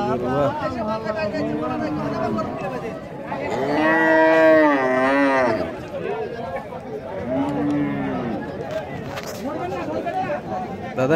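Cattle moo loudly several times at a cattle market in Rajshahi, long drawn-out lowing calls rising over a steady murmur of people talking nearby.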